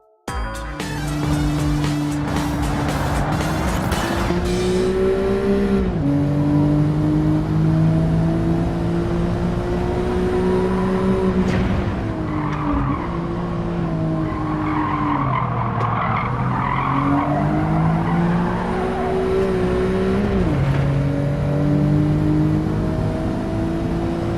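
A Mitsubishi FTO race car in Gran Turismo 7 howls at high revs, its engine note rising and dropping through gear changes while tires squeal and skid through corners, loud and continuous with no talking.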